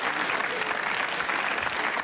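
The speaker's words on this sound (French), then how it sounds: "On l'applaudit" Audience applause at a live comedy show, steady dense clapping from a crowd throughout, moderately loud and alone without talk.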